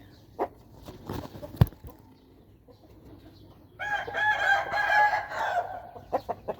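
A healthy rooster lets out one long, loud, warbling crow nearby, with sparse clucks and scattered knocks before and after it.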